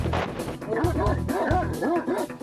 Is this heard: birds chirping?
no